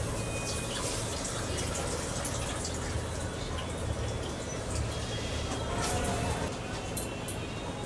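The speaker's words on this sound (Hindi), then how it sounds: "दाल धो दी है, दाल चढ़ा दी है मैंने" Masoor lentils are washed in water in a home kitchen, with a steady, dense wash of running and splashing water throughout and no clear speech.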